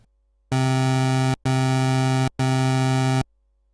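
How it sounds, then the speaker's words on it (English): Asymmetrical pulse wave from a Sylenth1 synthesizer oscillator plays three sustained notes back to back with brief pauses. The timbre is thin, nasal and buzzy, bright and constant in level, heard alone without speech. "A variant of this waveform is a pulse wave,"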